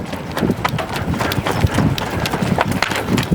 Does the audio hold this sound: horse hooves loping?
yes